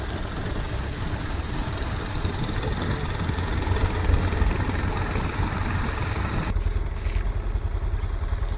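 A BMW R1150RT motorcycle fitted with a sidecar runs steadily at close range, its low, even engine rumble continuing without a break and thinning out near the end.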